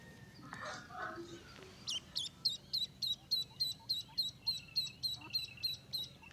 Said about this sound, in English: I'm gonna play this baby duck sound and get mama alerted again.